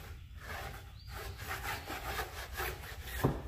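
A brush scrubs the tire sidewall of a 2017 C7 Corvette Stingray, making rhythmic back-and-forth rasping strokes, loud and close, with a sharper scrape near the end.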